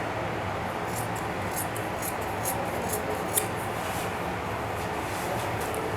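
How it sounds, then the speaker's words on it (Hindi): Scissors snip through a large roll of gamjee gauze in a quick series of short, crisp cuts over a steady background hiss, close by and with no speech. "अब जितना हमने लिया उतना काट दिया इसको।"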